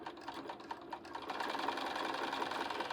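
A sewing machine stitches a Valentine mug rug block along the seam line, its needle running in a quick steady mechanical patter, close and alone, with a few separate stops and starts before settling into continuous stitching.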